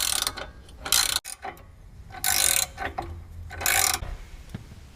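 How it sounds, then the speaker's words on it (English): Ratchet tightening bolts while a 2.5-inch Rock Krawler lift kit goes onto a 2015 Jeep Wrangler Willys: three bursts of rapid metallic clicking, close and fairly loud, with quieter handling noises between them. "Now we're just going to tighten up all the bolts."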